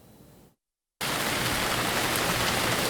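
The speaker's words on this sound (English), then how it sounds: "It was raining heavily on the 26th of February 2021" Heavy rain pours down in Rabaul, East New Britain, as dusk approaches. The sound cuts out briefly, then returns as a loud, dense, continuous hiss of falling water.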